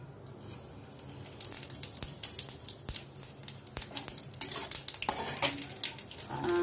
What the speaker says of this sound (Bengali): এটার মধ্যে আমি শুকনো লঙ্কা আর তেজপাতা আর একটু জিরা ফোড়ন দিয়ে দেবো।